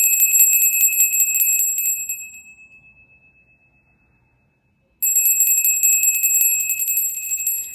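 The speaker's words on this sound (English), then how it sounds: "I don't know why I'm being led to ring my bell." A hand bell rung in a quiet room, giving bright, sustained metallic ringing that fades to near silence, then a second loud burst of ringing after a pause.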